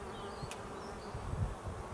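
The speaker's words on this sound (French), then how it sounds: "on prend les abeilles avec, bien sûr, et on les met dans la petite ruchette." Honeybees buzzing close by as they are transferred into a small nucleus hive, a steady soft hum with faint fluctuations and no voices.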